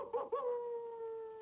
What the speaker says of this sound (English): Oh, thank goodness, rescue dogs.